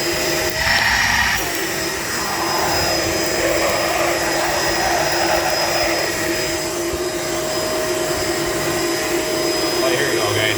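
A Shark LA702 Lift-Away vacuum cleaner runs with its hose attached, giving a steady, continuous whirring drone close by that holds at an even loudness throughout.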